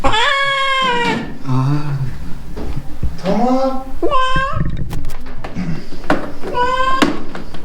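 Several distressed meows from cats at a veterinary clinic after neutering surgery, loud and close, repeating in bursts with people talking in between.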